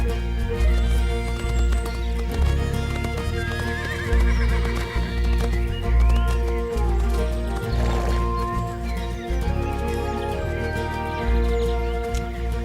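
A Swiss Freiberger horse neighs and its hooves clip-clop, the sounds set deep in a dense bed of layered music that plays steadily throughout.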